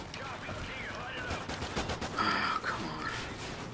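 Machine gun fire in Call of Duty Ghosts on PS4, with rapid continuous bursts and a dense clatter of shots layered under game noise and shouting, close and loud throughout.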